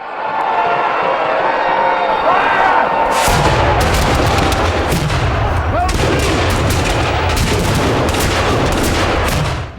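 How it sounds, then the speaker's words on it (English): Musket volleys and cannon fire at the Battle of Moores Creek Bridge ring out as a dense, continuous barrage of loud cracks and booms, with heavy explosive rumble setting in after a few seconds and crowd noise mixed beneath. "Met with a devastating hail of musket fire and shot from the cannons"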